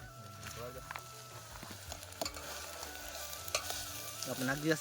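Kantola (spiny gourd) goes into a hot pan for a village-style vegetable dish, bringing a close, rising sizzle and intermittent stirring clatter while someone talks throughout.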